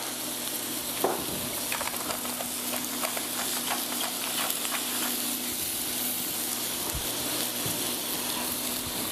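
Meat sizzling and frying steadily in a pan, a dense continuous crackle with scattered pops, close and fairly loud, with no talking over it.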